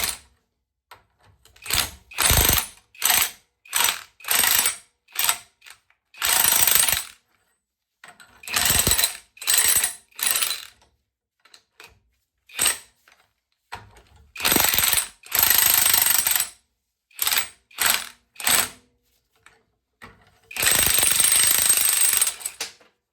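Snap-on CJ951 4.5-inch puller, air-driven, working on an NV4500 transmission main shaft, hammering in loud repeated bursts of one to two seconds with short pauses between, close up and alone.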